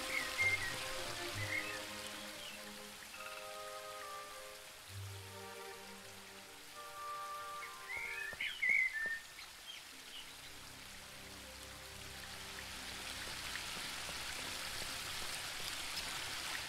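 Waterfall ambience from the video game The Book of Unwritten Tales 2: a soft, steady watery hiss with scattered drips runs beneath gentle melodic music, with no talking.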